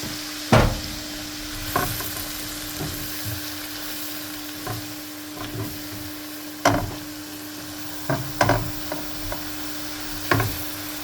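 Honey sauce for Asian-style chicken wings sizzles steadily in a pan while a spoon stirs and taps the pan at irregular intervals, close and fairly loud, with no talking.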